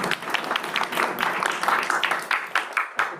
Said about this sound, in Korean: 뜨거운 박수로 환영합니다.